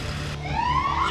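An emergency siren on an ambulance carrying an injured man after a sports crash, a loud rising electronic wail that begins abruptly and sweeps upward, close and alone without talk.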